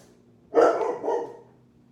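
A single sharp dog bark rings out close by, followed by a brief trailing yelp, with quiet surroundings before and after.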